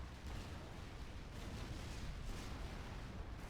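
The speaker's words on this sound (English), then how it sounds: "the P-shields soak up that artillery fire" Artillery fire in the Supreme Commander 2 strategy game, a dense, continuous rumble of overlapping blasts and booms, loud and steady throughout.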